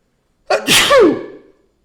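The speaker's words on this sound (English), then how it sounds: "Now, I'm going to sneeze." A single loud, close sneeze: a short sharp intake followed by an explosive burst that trails off.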